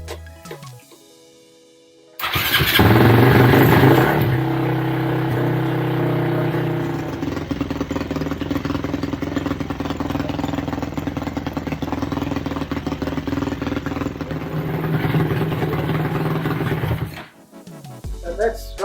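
A petrol engine fires up after a shot of starting fluid, catching abruptly into a loud rough run and then settling into a steady, throbbing idle close by before cutting off, with people talking faintly.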